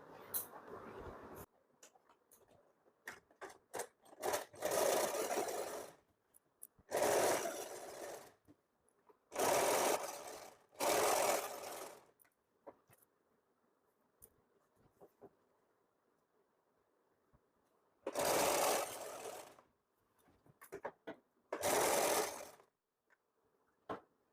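A sewing machine stitches a blazer sleeve in several short, loud bursts of rapid whirring, with long quiet gaps holding a faint hum between the runs.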